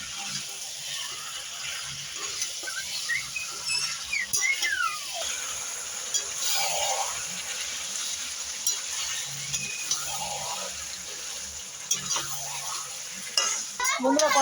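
Potatoes and meat being sautéed in a pan give a steady close sizzle, broken by scraping spatula strokes and light metal knocks throughout.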